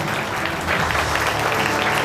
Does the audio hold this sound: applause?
yes